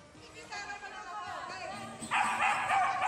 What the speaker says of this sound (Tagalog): hindi lang basta tumatahol, sumasabay rin sa pagkanta.